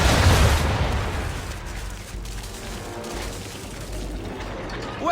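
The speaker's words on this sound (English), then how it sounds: "Bring her round broadside, and when all guns are on target, call fire. Round shot for a start! Fire!" Naval cannons on a ship fire a broadside of round shot in Assassin's Creed 3. There is one loud, close boom at the start that rolls into a long, fading rumble, with a faint sharp report near the end.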